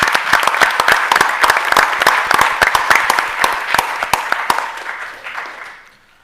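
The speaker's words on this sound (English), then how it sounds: "I would just like to give him a round of applause." An audience at a school board meeting gives a round of applause, dense steady clapping lasting several seconds before thinning out and fading to silence.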